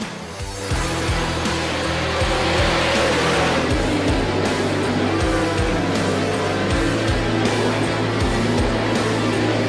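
Sprint car racing on a dirt track: several loud, high-revving engines roar together with rising and falling pitch as cars power through the turns, close and continuous throughout.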